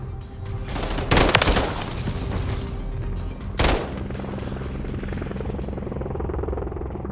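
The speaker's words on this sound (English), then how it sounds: "Friendly Overwatch helo inbound." A friendly Overwatch helicopter arrives in Modern Warfare III hardcore team deathmatch, its steady rotor drone running throughout while two sharp bursts of gunfire punch through near the start and middle.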